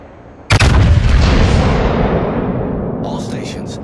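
Naval artillery fire in the video game World of Warships, a sudden loud boom that rolls into a long heavy rumble and slowly fades, with a brief synthetic chirp near the end.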